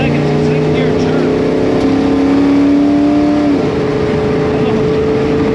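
A Chevrolet Chevelle with a Holley carburetor accelerates hard in second gear, its loud engine drone rising steadily in pitch, then dropping sharply at a shift before pulling on again, close and continuous.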